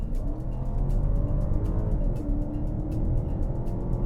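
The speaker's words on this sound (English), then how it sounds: "We're about to get on a highway, so let's floor it." A BMW X7 with a 456-horsepower turbocharged V8 accelerating hard up a highway on-ramp, heard from inside the cabin as a steady, heavy low engine drone with road roar.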